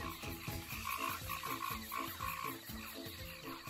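Frogs croak in a jungle, rapid repeated pulsing calls layered over one another in a dense chorus with a higher trilling note among them, steady and moderately near.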